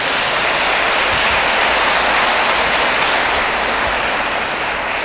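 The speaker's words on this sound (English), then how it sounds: "Please give them a round of applause." Sustained, dense applause from an audience at a judge's swearing-in ceremony, steady and loud throughout like heavy rain, with no talk over it.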